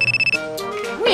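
A telephone rings with a rapid repeating electronic trill, loud and close, then cuts off as a voice begins speaking over a low background hum.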